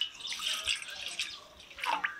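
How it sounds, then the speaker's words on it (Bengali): A raw mango is rinsed under a running tap before cutting, and faint splashing and dripping water comes in a few soft bursts, quiet and close. "কাটার আগেই ধুয়ে নিচ্ছি।"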